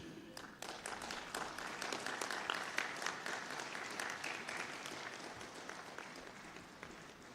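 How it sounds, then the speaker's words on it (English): An audience at a public programme attended by the President of India applauds with sustained, even clapping that holds steady for about seven seconds before easing slightly at the end. "Let us applaud the occasion."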